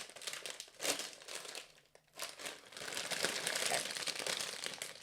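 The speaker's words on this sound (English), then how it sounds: "It's crinkling. This has to be a crisp." A crisp packet crinkles and rustles close by in repeated handling bursts, then keeps up a steady crackle; someone briefly says a word.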